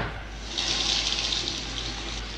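A toilet flushes indoors with a steady rushing gush of water that swells after a brief moment and keeps pouring, fairly close and alone without voices.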